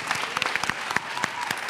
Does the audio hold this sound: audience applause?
yes